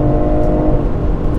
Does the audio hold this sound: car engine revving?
yes